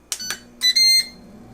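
An air fryer's control panel gives two short quick beeps, then a longer two-part electronic tone as the unit is switched on, crisp and close with no voices.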